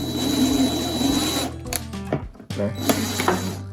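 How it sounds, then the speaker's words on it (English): A power drill with a threading bit starts a hole in a cabinet, giving a loud, steady whirring drone. It then breaks into shorter bursts of spinning and stopping. "I'm going to take my threading bit and just start it."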